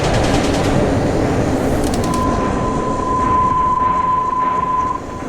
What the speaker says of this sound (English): Well, so much for the brakes not being loud.